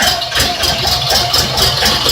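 A Shifeng SF 244 CL tractor's 24-horsepower, 1.5-litre three-cylinder engine runs nearby, a loud, steady, rhythmic chugging with a slight rattle and no talk over it.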